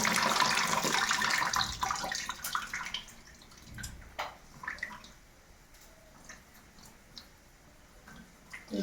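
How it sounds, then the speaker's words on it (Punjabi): Hot water is drained off from a cooking pot: a splashy pour at first, fading into faint, scattered drips and trickles in a quiet kitchen. "2 ਮਿੰਟਾਂ ਬਾਅਦ ਇਹਦਾ ਪਾਣੀ ਕੱਢ ਦਿਓ ਸਾਰਾ"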